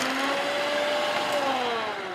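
Smart mixie mixer attachment beating, a steady whirring motor hum with a slowly gliding pitch, continuous and moderately quiet, with no talking.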